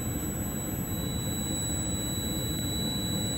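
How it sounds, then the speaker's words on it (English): A multimeter set to continuity gives a steady, unbroken beep while testing the drain float wiring of an LG Multi V system, set against loud, constant broadband machinery noise. "As you can hear my meter, it's on continuity and it's beeping."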